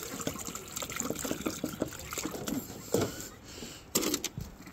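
Fresh water pours and splashes for ducks on a small farm, a steady close gush with uneven sloshing bursts and brief louder splashes near the end.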